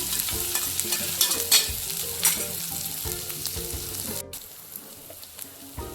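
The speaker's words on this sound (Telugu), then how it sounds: "ఫస్ట్ ఈ మసాలా అంతా చక్కగా ఫ్రై చేసుకుందాం" Ground raw masala fries in hot oil in a pan, a close continuous sizzle broken by repeated scraping stirs, fading quieter after a brief cut near the end, no voices.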